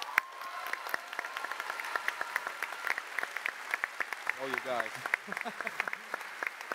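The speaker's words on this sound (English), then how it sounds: "You got, a round of applause." A panel audience at the PAX West 2017 gaming convention, celebrating the Witcher's tenth anniversary, gives a light round of applause. The scattered claps are fairly distant, and someone briefly speaks over them.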